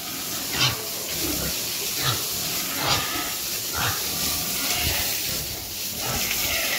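A motor-driven water pump sprays water to wash pens at a pig farm in Nepal that uses Korean methods. The hiss is loud and steady and surges in regular bursts. Faint animal or voice sounds lie beneath it.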